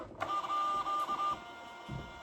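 A label printer feeds labels in one steady mechanical whir with a high motor whine lasting about a second, then falls quiet, followed by a brief low thump. The printer keeps jamming while hat orders are packed, and no one speaks.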